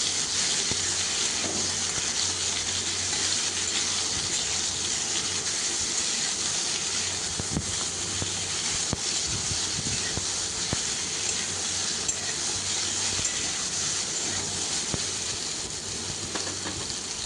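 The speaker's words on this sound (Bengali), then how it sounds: "এবারে পটলগুলো ভেজে নিচ্ছি" Pointed gourd pieces frying in oil in a pan, a steady even sizzle and hiss holding at one level for the whole stretch, with a few faint clicks.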